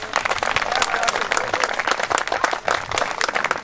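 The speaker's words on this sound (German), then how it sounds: "Applaus für Ralf." Gathering of garden YouTubers claps for Ralf, a lively burst of many hands with a few voices mixed in, loud and close, briefly dipping before resuming.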